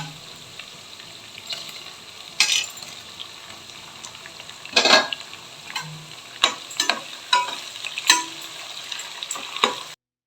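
Tomatoes go into a frying pan of onions for Karnataka-style veg biryani, giving a steady sizzle and frying hiss with several sharp clinks and scrapes of a stirring spoon against the pan.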